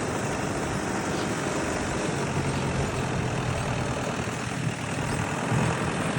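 A New Holland tractor on autopilot runs with a loud, steady engine drone, a constant heavy rumble close by with no pauses and no voices.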